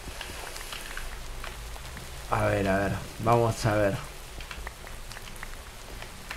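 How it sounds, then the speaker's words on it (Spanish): Steady rain pattering on the ground in a heavily modded Minecraft-style game world, a continuous soft hiss running throughout while someone briefly talks over it in the middle. "Encima con esta lluvia"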